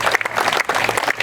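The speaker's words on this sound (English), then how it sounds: "Let's give everybody a round of applause" A crowd at a mayor's award ceremony and ribbon cutting in a memorial hall bursts into a short, steady round of clapping, dense and fairly loud throughout.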